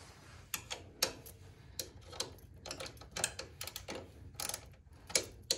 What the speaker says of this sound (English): I simply take my wrenches.